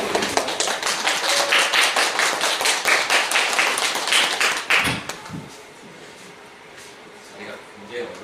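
Audience clapping at a school-community education workshop for teachers and parents, a dense burst of applause that fades out midway, followed by quieter room sounds.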